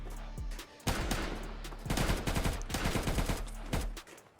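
Rapid bursts of Minecraft video game gunfire crackle loudly and repeatedly, with sharp automatic volleys and a few separate shots, no talking.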